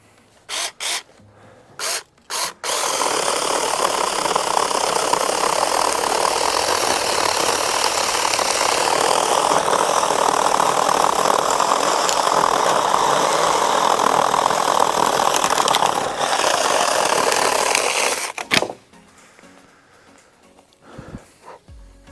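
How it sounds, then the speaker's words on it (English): A small 6-inch Taranzi chainsaw starts with a few short pulls, then runs loudly and continuously for about fifteen seconds cutting brush before cutting off. "I'm going to use this 6-inch mini Taranzi chainsaw to see if I can't cut this stuff out of the way"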